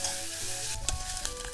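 Shishito peppers sizzle and crackle in a hot pan with a little soy sauce, a constant hiss broken by sharp pops and the clatter of stirring.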